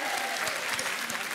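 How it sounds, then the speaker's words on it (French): Studio audience on a French television dating show breaks into brief, lively applause, a dense burst of many hands clapping close and loud. "Allez, on vous applaudit, Alan et Claire."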